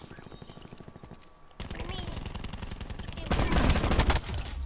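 Rapid bursts of automatic gunfire in the Call of Duty Black Ops 4 beta, sharp repeated shots in quick succession that grow louder and denser toward the end, with players talking over them.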